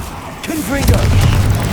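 A Confringo blasting spell explodes in Hogwarts Legacy, a deep booming blast with rumbling low-end that follows a brief spoken incantation and lingers loudly.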